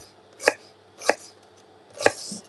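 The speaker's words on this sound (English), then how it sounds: "I'm quickly slicing 1 brown onion" A new brown onion being sliced quickly with a knife: three sharp, separate knife strikes land on a cutting board about half a second apart, close and clear with no talking.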